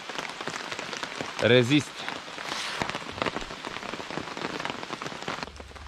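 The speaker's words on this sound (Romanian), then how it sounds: "4-5 reprize de ploaie în 4 ore. Nu se oprește deloc." Steady rain pours down on a riverside fishing spot along the Danube, a dense continuous patter of drops throughout, briefly overlaid by a short spoken word and a clattering sound near the start.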